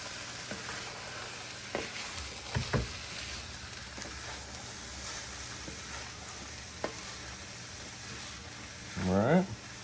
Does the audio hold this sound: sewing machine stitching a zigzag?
no